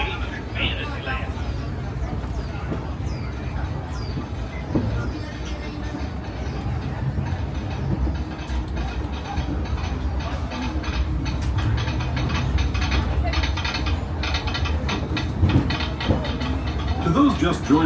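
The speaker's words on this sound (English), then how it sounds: "welcome aboard the Disneyland Railroad" The Disneyland Railroad train rolls steadily along its track, a continuous rumbling wheel noise with light clattering and rattling throughout, heard from onboard with crowd babble and a voice announcement mixed in.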